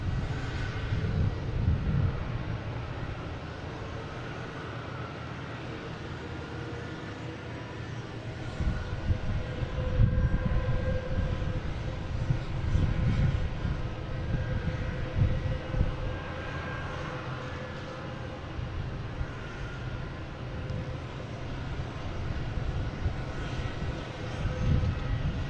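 A British Airways airliner taxis at Boston Logan International Airport, its engines a steady, distant low roar and whine that holds throughout with slight swells.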